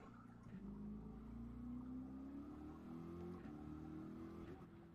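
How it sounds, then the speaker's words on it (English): A steady, droning race car engine from Gran Turismo Sport hums at moderate distance on the Nürburgring, its pitch slowly rising and holding, synthetic-sounding like game audio. "I love the sound of the car here."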